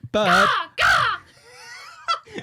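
Two loud, harsh crow-like caws ring out close up in a podcast studio, followed by softer squawky bird-like calls, which sound like a human voice imitating a bird.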